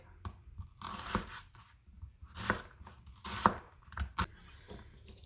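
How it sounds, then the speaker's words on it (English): A knife dices peeled garlic on a cutting board, soft irregular chops and taps at close range, fairly quiet with gaps between strokes and no speech. "Let's finish up dicing the garlic."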